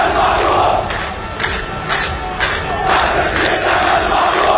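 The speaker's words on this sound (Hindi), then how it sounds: "लोगों ने अस्पताल पर हुए हवाई हमले की निंदा की और इजराइल के विरोध में जमकर नारेबाजी की" A protest crowd in Ramallah chants slogans against Israel, a dense, loud roar of many voices rising and falling in rhythmic bursts that carries on steadily throughout.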